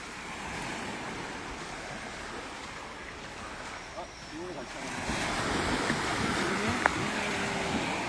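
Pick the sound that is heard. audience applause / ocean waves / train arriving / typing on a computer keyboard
ocean waves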